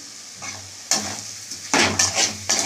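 Spice paste with turmeric and sugar frying for a chicken curry, a spatula scraping the pan in a few quick strokes over a close hissing sizzle, no voices.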